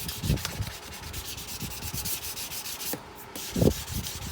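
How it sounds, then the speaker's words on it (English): An aluminum Porsche rim is sanded by hand with sandpaper, a close, steady rasping rub in quick back-and-forth strokes with a few heavier scuffs, and no talking. "This aluminum is pretty soft, okay? It's tough, but it's soft. You can sand it pretty well."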